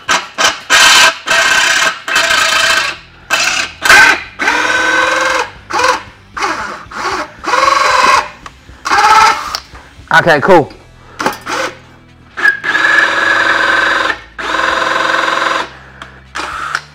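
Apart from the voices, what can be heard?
power drill boring a hole with hot drill bit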